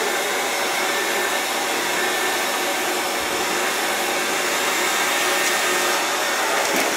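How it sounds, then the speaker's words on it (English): A hair dryer blows continuously at close range, a loud, steady whooshing roar that barely changes over several seconds. "I want to take the blow dryer and just blow it over."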